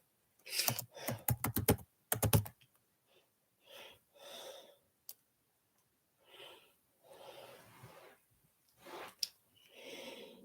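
Quick bursts of keyboard typing at the start, followed by scattered soft clicks and breathy sounds with pauses in between.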